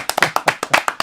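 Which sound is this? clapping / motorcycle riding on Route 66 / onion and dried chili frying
clapping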